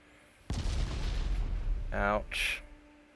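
Naval artillery fire in the warship game Ultimate Admiral Dreadnoughts: a sudden heavy boom followed by a long rumbling decay, with a short voice and a brief sharp crack near the end.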